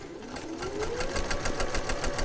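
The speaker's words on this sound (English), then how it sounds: "getting that sewing machine revved up" A sewing machine runs close up, its rapid stitching clatter speeding up into a steady fast rhythm with a rising motor whine.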